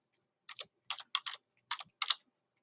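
Typing on a computer keyboard: a few short groups of quiet, close keystroke clicks with brief pauses between them, otherwise silent.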